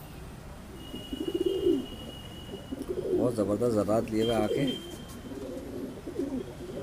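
A female pigeon from Delhi, a Madrasi flying breed, coos in low rolling phrases while held in the hand, close and clear, with someone talking before and after the cooing.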